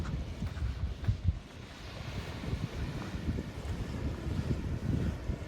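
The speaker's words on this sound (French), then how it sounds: "On entend bien les vagues là." Sea waves rolling onto the beach at Les Sables d'Olonne, a steady low rumbling wash of surf mixed with heavy wind buffeting the microphone, continuous and fairly loud, with no talking.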